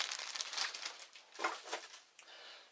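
Small Arkham Horror board game tokens rustle and clatter as they are shuffled in a bag, soft crinkly bursts close by, fading and returning in a few uneven handfuls.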